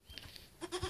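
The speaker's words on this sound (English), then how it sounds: "this little goat wants some milk" A small goat on a rural Ukrainian homestead gives a couple of short, quiet bleats near the end, with faint background rustle before them.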